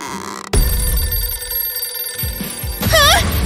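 An old-style telephone bell rings loudly and continuously in a home, its bright metallic jangle running for several seconds with a brief whistling, warbling sound near the end and no talking.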